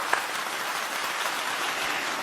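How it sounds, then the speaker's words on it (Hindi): Audience applause welcoming poet Vaishali Singh at a Hindi poetry gathering, a dense, steady wash of clapping from a crowd that holds evenly throughout. "आइए सुनते हैं और जोरदार तालियों के साथ स्वागत करते हैं वैशाली सिंह मैडम का।"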